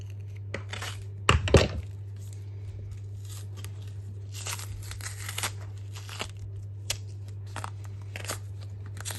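A knife cuts through green plantain on a hard surface, giving scattered sharp clicks and dull thunks, one louder double knock early on, over a constant low hum with no talking.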